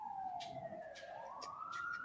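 Emergency vehicle sirens wailing in the background of a livestream participant's microphone, a faint, distant wavering tone that rises and falls continuously for a couple of seconds.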